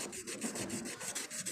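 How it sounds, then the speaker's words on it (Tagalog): Sandpaper of fine, not very coarse grit scrubbed back and forth in steady repeated strokes, a close, dry rasping rhythm with no talking, while fitting a bushing. "Ang liha natin mga kabuting-ting ay hindi masyadong magaspang yung ano."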